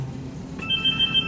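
A cell phone starts ringing partway through, a steady electronic ringtone over low room murmur in a performance hall during a pause in a musical show.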